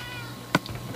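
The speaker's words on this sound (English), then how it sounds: "Yes, cat. Meow." A Minecraft cat gives a single short meow partway through, clear against a faint steady background hum.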